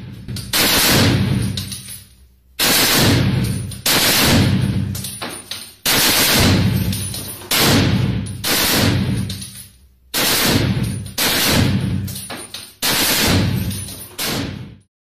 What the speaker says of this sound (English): Ukraine's main heavy machine gun is the World War II vintage DSHK, known commonly as the Dushka.